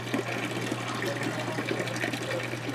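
Aquarium gravel being cleaned with a siphon as the tank drains, producing a steady, close gurgling rush of flowing water with no pauses and no talking.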